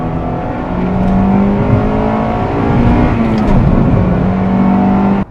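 A 1995 Acura Integra GS-R's engine drones steadily and loudly from inside the moving car, its pitch rising and falling slightly with throttle, then cuts off abruptly at the end.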